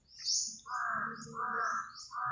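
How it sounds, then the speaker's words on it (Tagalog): Crows cawing close by, a few harsh, repeated calls in a quick series, with fainter higher chirps mixed in. "Kita ko yung uwak yun, titirahin ko yun"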